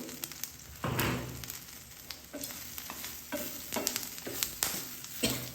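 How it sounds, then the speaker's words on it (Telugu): Sesame seeds sizzle in hot oil in a pan while a spoon stirs them, with scraping strokes and bursts of crackling frying and no talk. "నువ్వులు వేసుకొని ఒక్కసారి నువ్వులో కలపాలండి ఒక నిమిషం"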